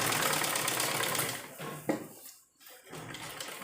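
A sewing machine runs at speed stitching an umbrella-style sleeve, a close rapid mechanical whir that slows and briefly stops before starting up again.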